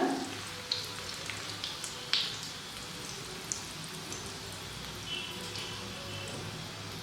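Paneer and potato cutlets fry in a pan with a soft, steady sizzle and occasional small crackles and pops, heard faint and close with no talking.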